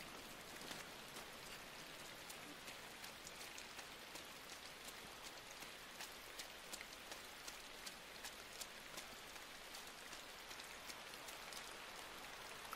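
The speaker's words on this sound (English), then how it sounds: "Why is it raining?" Steady video game rain in Inside patters continuously with scattered sharper droplet hits, soft and even throughout, with no voices.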